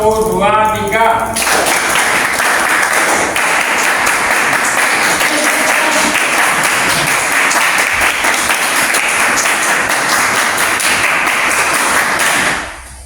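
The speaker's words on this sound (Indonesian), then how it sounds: "Tepuk tangan ya." A large crowd claps together in sustained, dense applause that starts abruptly and carries steadily for over ten seconds before tapering off at the end.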